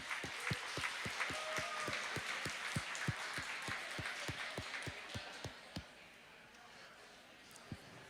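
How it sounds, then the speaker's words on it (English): Applause from the audience at an annual gala, with a run of distinct claps that starts strong and then thins out to scattered, fading claps near the end. "Let's give them a round of applause."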